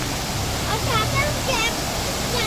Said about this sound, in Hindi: आज हम वाटरफॉल आए हैं।